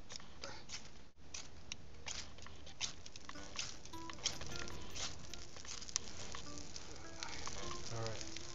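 A newly lit campfire in snow sizzles and hisses steadily as steam rises, with soft crackles and pops scattered through the close, continuous sputter.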